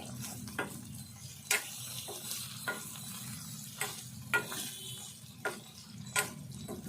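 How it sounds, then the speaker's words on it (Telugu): Dried fish frying in hot oil with ginger and onion, a soft steady sizzle broken by several sharp scraping clicks of stirring, close and fairly quiet. "ఎండు చేపలు ఇందులో వేసుకుందాము. చేపలు కూడా కొద్దిసేపు వేగాలి."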